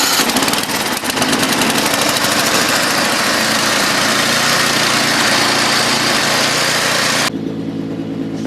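A snowblower engine running on leftover fuel drained for winter storage roars steadily at close range with a rough, rattling drone that keeps a constant pitch, then drops slightly in loudness near the end.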